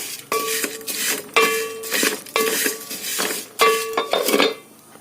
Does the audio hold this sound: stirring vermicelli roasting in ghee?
yes